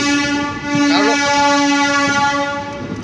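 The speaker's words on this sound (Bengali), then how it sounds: "তো আমাদের ট্রেন এখন ঢুকলো ব্যান্ডেল জংশন।" A train rolls into Bandel Junction station with a sustained horn blast over steady rumbling and clatter of the carriages, loud and close.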